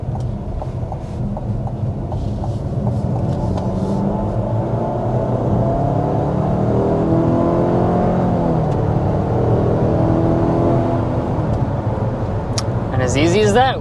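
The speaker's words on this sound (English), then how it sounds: "But first we want to go ahead and start by giving you a hard acceleration." A 2024 Buick Envision Avenir with a 2-liter turbo four-cylinder under hard acceleration, engine rising in a steady climbing drone with road roar, close and loud, while someone talks over much of it.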